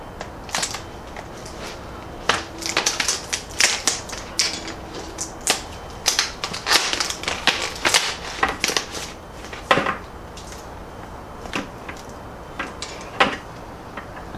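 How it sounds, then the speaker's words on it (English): A PVC cutter ratcheting through plastic tubing: rapid, irregular clicking and snapping close to the mic, dense in the middle and thinning out toward the end. "I'm going to be using some of these PVC cutters that I've had put away for a while now"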